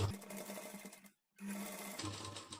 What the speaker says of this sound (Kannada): ನಾನಿಲ್ಲಿ ಒಂದು ಕಾಲು ಇಂಚ್ ಗ್ಯಾಪ್ ಬಿಟ್ಟು ಸ್ಟಿಚ್ ಮಾಡ್ತೀನಿ